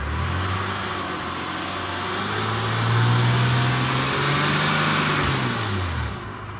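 A BMW engine with a VANOS fault rises from idle to higher revs, holds there for a few seconds, then eases back down; loud and close, no voices.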